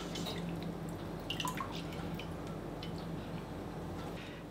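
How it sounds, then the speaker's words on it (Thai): Water drips from drained, boiled spaghetti. Faint, scattered drips and small ticks sit over a steady background hiss, and nobody speaks. "ก็นำขึ้นมาจากน้ำนะครับสลิดน้ำให้ดีนะ"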